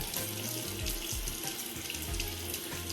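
Tap water runs steadily into a bathroom sink during a morning skincare routine for combination to dry skin, a close, continuous splashing flow with no talking.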